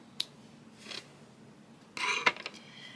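Scissors snip a crochet yarn tail at close range: a single sharp snip, a soft rustle, then a cluster of quick cutting clicks in a quiet room.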